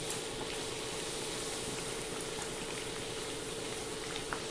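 Puris sizzle in hot oil with a steady, dense crackle and bubbling that runs evenly throughout, close and fairly quiet, with no voices.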